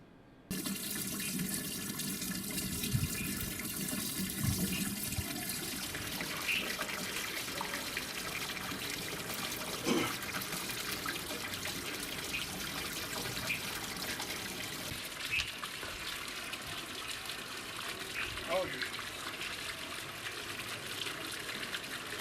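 Municipal supply water runs steadily from a tap into a sink in a residential society with a contaminated-water problem, a continuous close splashing stream with no talk throughout.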